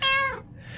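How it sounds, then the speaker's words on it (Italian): An angry domestic cat in 60 Seconds Reatomized lets out a single loud, drawn-out meow that fades into quiet. "è salito fuori che era solo un gatto domestico arrabbiato"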